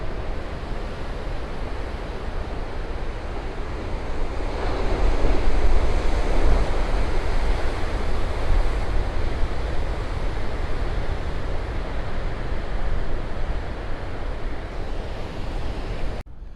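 Huge ocean waves crash against the rocks along the coast at Duncans Landing, a continuous heavy roar of surf with swelling surges, mixed with wind buffeting the microphone.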